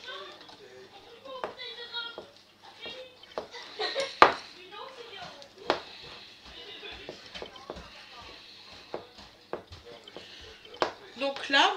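Strawberry clafoutis batter stirred in a bowl, the utensil scraping and clinking against the sides in irregular strokes, with occasional sharper knocks and a voice faintly in the background.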